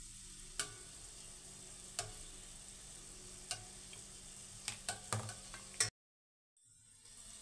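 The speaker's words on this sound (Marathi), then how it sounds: "तर असंच आपल्याला मंद आचेवरती याचा कलर डार्क होईपर्यंत इथे आपण याला तळून" Kala jamun frying on low flame in oil, a faint, steady bubbling sizzle with occasional soft clicks and taps from the spoon, quiet and close, ending in sudden silence.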